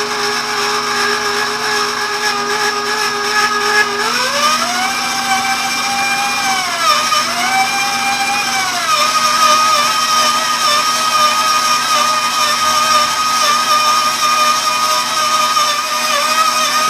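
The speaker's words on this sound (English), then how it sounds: "The mixer is only set to about half speed." A stand mixer kneading bread dough at about half speed whirs at a constant pitch, rising briefly in tone as the dough meets resistance, then settling, with a continuous mechanical hum and no talking.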